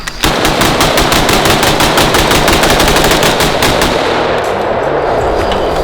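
Rapid automatic fire from H&K MR762 and Sig Spear M7 battle rifles, a loud dense string of shots at a fast regular rhythm, close and continuous, with no voices.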